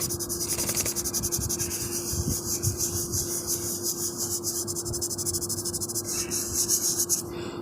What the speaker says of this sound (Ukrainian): Так, шліфуємо нашу шпатльовку.